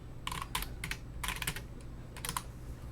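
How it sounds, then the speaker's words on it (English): Keystrokes on a computer keyboard at a Linux terminal come in short bursts of crisp clicks separated by pauses, close and fairly quiet with no speech. "Oh, I am typing not so great."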